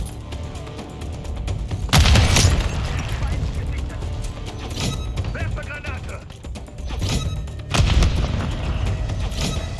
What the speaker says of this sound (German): Granate geworfen!